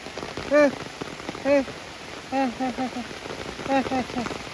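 Steady hiss of rain falls throughout, with several short, tonal voice-like calls breaking through at intervals.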